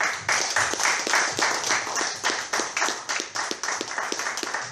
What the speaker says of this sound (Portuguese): Deus, salve de palmas.